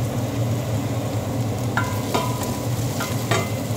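Garlic and ginger sautéing in a pan for chicken and egg arroz caldo, a steady close sizzle with a low hum underneath and a few short clinks of a utensil scraping and stirring, no voices.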